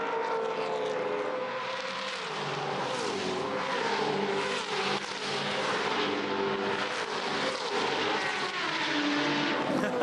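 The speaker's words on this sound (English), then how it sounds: "I just love you can actually pick when the 6-cylinder pacer comes by" Touring race cars from the 2015 Touring Car Masters at Hidden Valley, including a six-cylinder car, roar past with loud, continuous engine noise that swells and shifts as they accelerate and brake.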